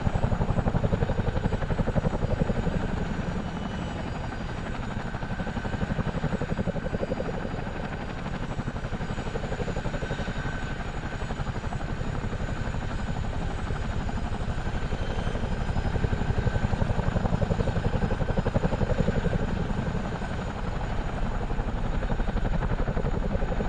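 Rotors of a Chinook CH-47D helicopter in Microsoft Flight Simulator hold a steady, dense, loud thrum that pulses gently throughout, with no voices.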